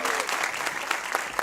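Audience applause fills the room at a TV show Q&A, a steady dense clapping from a crowd that holds at an even level throughout with no break.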